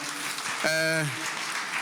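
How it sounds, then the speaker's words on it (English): A summit audience keeps up a continuous hiss of applause for a speaker, with a short spoken voice rising briefly over the crowd's clapping. "Another round of applause for Dr. Fatima."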